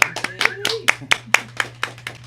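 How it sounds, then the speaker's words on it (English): An audience claps to welcome guests, including the quartet Trippin Roots, on Red Barn Radio. Only a few hands are heard, sharp and close in an uneven rhythm of about ten distinct claps, over a low steady hum. "Let's give them a round of applause."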